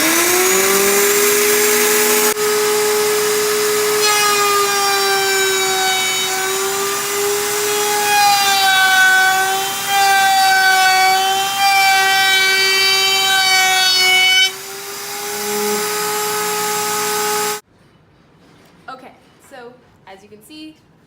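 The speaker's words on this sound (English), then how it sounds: "So I'm going to go ahead and flip the router on." Table-mounted wood router with a shop vacuum, a loud steady high whine holding one pitch with rising tones as bit meets wood, cutting off abruptly before brief quiet talk.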